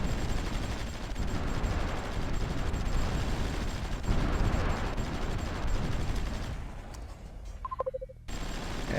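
Heavy bombardment in the strategy game Supreme Ruler Ultimate: a dense, continuous roar of rumbling blasts and crackling fire that drops out near the end, where a few short electronic beeps sound before the barrage resumes.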